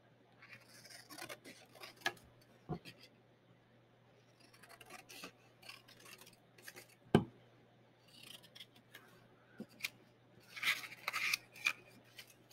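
Scissors snip through paper while cutting out pieces of a homemade ABC puzzle, giving irregular crisp cuts and rustles with quiet pauses between, close up and with no talk.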